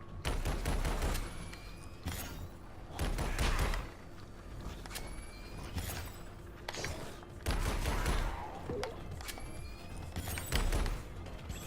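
A plasma shotgun fires in the game Alienation, with sharp blasts repeating roughly every second or two over quiet game ambience. The shots are moderately faint and there is no talking.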